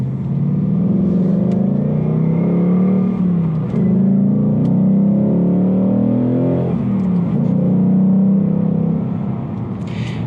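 A 2019 Ford Mustang GT's V8 exhaust in normal mode drones steadily while driving, rising and falling slightly with throttle, loud and close with no talking.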